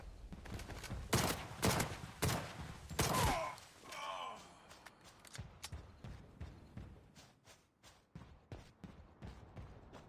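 Gunshots in the open-world shooter Ashfall, a few loud bursts early on followed by fainter, scattered shots and mechanical clicks fading into quieter background sound.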